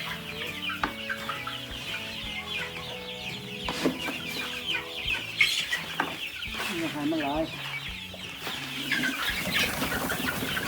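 Black-tailed Pradu Hang Dam chickens on a farm cluck and call close by, with steady clucking and a few louder squawks. A person speaks briefly among them.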